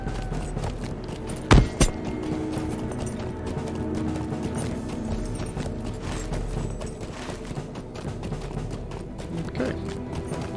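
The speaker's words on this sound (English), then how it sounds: "if we can run this horse right out" Horse hooves pounding at a run in the online game Lord of the Rings Online, a steady rapid clip-clop under ambient game noise with a couple of sharp louder hits early on.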